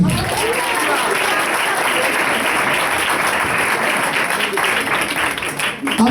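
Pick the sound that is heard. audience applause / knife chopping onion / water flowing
audience applause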